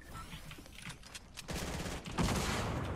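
Fortnite gunfire rattles in rapid bursts of shots, growing denser and louder midway, with no voices over the shooting.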